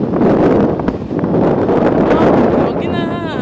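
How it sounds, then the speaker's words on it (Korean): Strong wind buffets the microphone outdoors at Masan Stadium during cherry blossom season, a loud, continuous rumbling roar with gusty swells throughout. "여기는 바람이 많이 불어서 말하기가 좀 그렇네."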